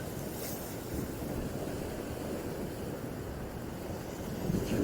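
Sea waves wash gently onto the shore in a soft, continuous hiss and roll, quiet and unhurried, swelling slightly near the end.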